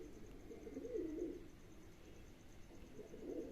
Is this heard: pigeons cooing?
yes